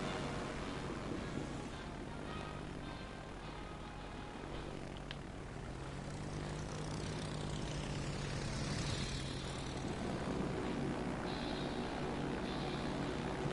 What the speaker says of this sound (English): They are pretty aircraft, aren't they?